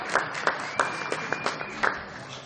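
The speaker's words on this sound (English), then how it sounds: "Round of applause, please." An audience applauds at an annual Sisterhood dinner, with a run of sharp, closely spaced claps lasting a couple of seconds and a voice faintly audible beneath.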